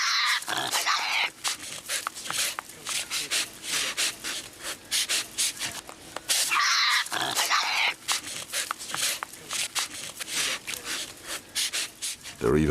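Hyenas fight noisily over a cow carcass: harsh, rasping growls and snarls come in loud, close bursts, with scraping and crunching between them, almost without a break.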